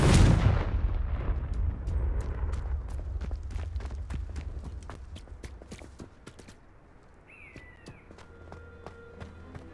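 A fiery Confringo spell blasts in Hogwarts Legacy, a loud close explosion at the start that fades into a crackling, rumbling tail with scattered sharp pops.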